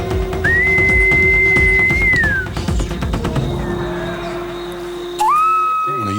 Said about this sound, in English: it's amazing whistling language they're using to communicate with each other